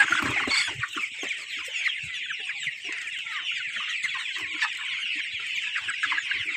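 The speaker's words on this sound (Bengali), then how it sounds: "টাইগার জাতের মুরগিগুলো বিক্রি করা হবে" A flock of about 500 forty-day-old tiger breed chickens clucks continuously, with many overlapping chattering calls from close by and no talking.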